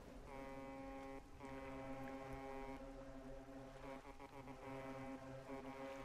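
A boat engine in the fishing game Dredge drones steadily nearby, a sustained buzzing hum with layered harmonic tones running throughout with brief dips, and no speech.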